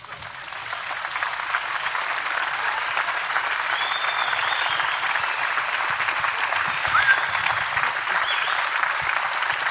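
Sustained audience applause at a German panel discussion in a palace hall, a dense, steady wash of many hands clapping, loud and continuous, with a few faint whistles or voices rising above it.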